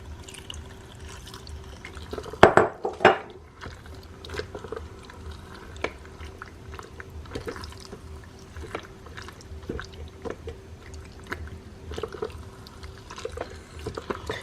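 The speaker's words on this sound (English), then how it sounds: "I'm going to add a little bit more of the pasta water." Pasta water is poured into meat sauce in a Dash mini rice cooker, soft liquid trickles and splashes with a louder burst of sloshing early on, then quiet stirring clicks.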